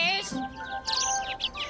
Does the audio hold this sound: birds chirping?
yes